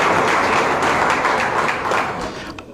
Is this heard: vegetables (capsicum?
no